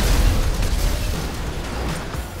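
A loud, booming explosion in GTA 5 gameplay, a deep rumbling blast that slowly fades over a couple of seconds, with no voices.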